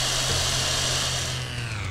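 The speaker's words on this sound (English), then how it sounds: "Not sure if there's enough oomph on the chainsaw." Chainsaw in the video game Serious Sam HD: The Second Encounter, a loud continuous buzzing whine held steady for about two seconds with no talk.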